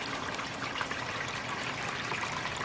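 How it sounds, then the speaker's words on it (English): Water trickling and splashing steadily off the solar panel of a garden water feature, a continuous close, soft spatter with no voices. "there's a lot of water coming off that solar panel"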